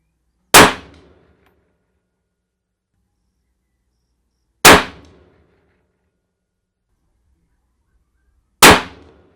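Three loud, sharp rifle shots fired with ADI Match King factory ammunition, evenly spaced about four seconds apart, each a crisp crack with a short decay into silence.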